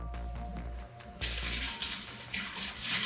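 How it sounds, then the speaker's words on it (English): Filtered water runs and splashes into a fire-bellied toad enclosure, a steady close pour that surges louder partway through, with no talking. "we're going to go ahead and put some water in here"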